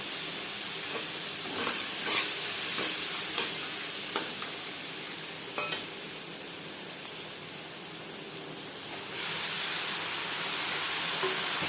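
Hilsa fish head stirred and fried in a pan, a loud steady hiss of oil with occasional spatula scrapes and taps, the sizzle dipping briefly then surging back, heard close with no voices.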